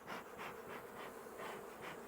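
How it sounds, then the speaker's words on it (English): Honey bees hum steadily inside an opened hive during a spring inspection, a dense close buzz that swells and fades in slow pulses with no voices. "We got bees in the top and the bottom."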